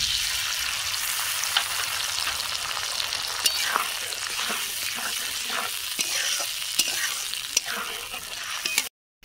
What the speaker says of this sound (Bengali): টমেটো আর ক্যাপসিকাম সুন্দর ভাজা হয়ে গেছে।